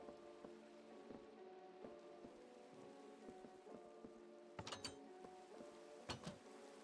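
A steady rain storm hisses throughout, with a hum of tonal background underneath and a few sharp crackles or knocks near the end, and no one speaking.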